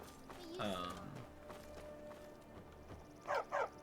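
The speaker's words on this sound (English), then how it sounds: "oh, that's that dog" A dog barks twice in quick succession near the end, inside the Skyrim Special Edition video game, following a stretch of game ambience with a person speaking over it.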